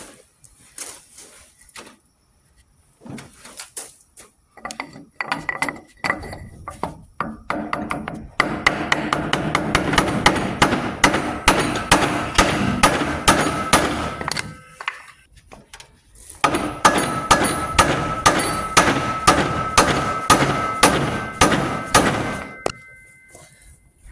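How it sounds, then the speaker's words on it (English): A hammer taps on the heated, stuck piston of a 1970s Sno Jet snowmobile engine, sharp metallic knocks coming in rapid, irregular bursts separated by brief pauses, close and fairly loud. "I'm going to tap on the piston a little bit and see what happens."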